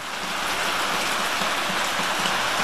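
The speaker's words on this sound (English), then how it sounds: "It is one seriously rainy day. I mean, this is a Hawaiian monsoon." Heavy Hawaiian monsoon rain falls in a steady, dense hiss with constant patter on nearby surfaces, loud and unbroken throughout, with no voices.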